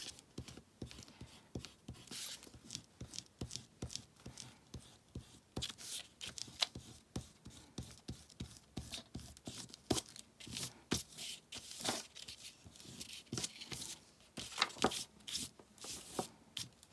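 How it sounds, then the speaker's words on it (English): An eraser scrubs pencil marks off journal paper in quick, close bursts of soft rubbing and scratching, uneven strokes repeating with short pauses, quiet and unvoiced. "I need to find an eraser and erase my pencil marks here"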